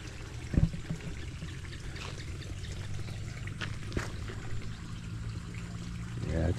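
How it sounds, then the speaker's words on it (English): Water flowing into rice fields in the Philippines, a soft continuous trickle and stream heard outdoors at moderate distance, with low background rumble and a couple of brief knocks. "Water going into the fields."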